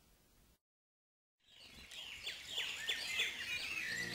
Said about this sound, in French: Écoute un peu tout près de toi, le coucou parle au fond des bois